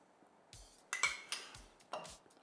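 A spoon stirs a dollop of crème fraîche smooth in a bowl for a German currywurst stew, giving four or five quiet, irregular clinks against the dish with soft scraping between them.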